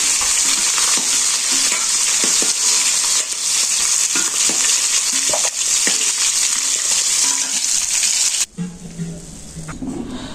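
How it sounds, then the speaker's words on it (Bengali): Fish fries in hot oil in a village kitchen, a loud continuous sizzle with occasional scraping and clinks as pieces are lifted out, then the frying noise abruptly drops away near the end. "মাছ ভাজা হয়ে গেছে নামিয়ে নিই"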